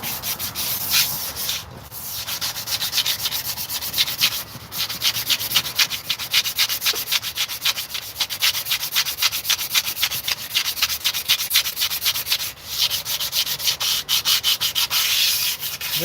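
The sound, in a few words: sandpaper sanding a cast iron brake drum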